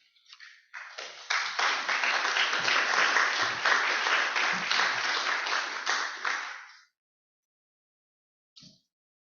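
An audience breaks into sustained applause to welcome a speaker at a morning talk, the clapping swelling quickly, holding dense and steady for several seconds, then stopping abruptly, followed by a brief faint sound.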